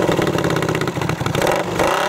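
A 1978 Honda CX500 cafe racer with baffled pipes revs loudly and close, a throbbing mid-pitched exhaust burble pulsing steadily then rising briefly near the end, with no talk.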